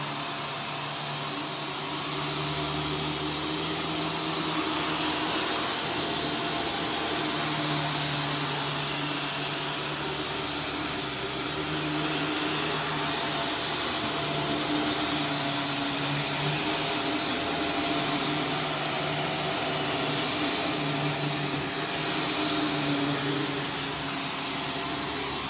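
An Arm & Hammer vacuum cleaner runs continuously over a rug, a loud, close, steady motor whine with a high whistle and slight rises and dips as it is pushed back and forth.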